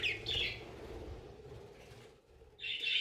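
Pet parrots chirping indoors in a room, with bright chirps at the start and again at the end separated by a quieter stretch of low background noise.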